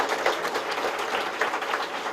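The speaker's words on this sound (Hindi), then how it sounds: "जोरदार तालियों से इनका स्वागत करें" An audience at a tribal youth gathering in Raipur claps steadily to welcome a schoolgirl to the stage, a dense, even patter of hands that fills the room with no voices over it.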